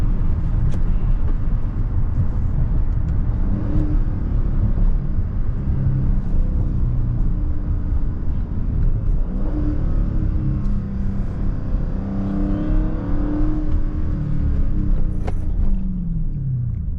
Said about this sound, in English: Downshifts is going crazy